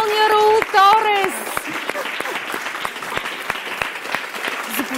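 Studio audience applause on a Bulgarian TV show rises after a brief spoken announcement and musical tones, then continues as steady, dense clapping with a few sharper individual claps standing out.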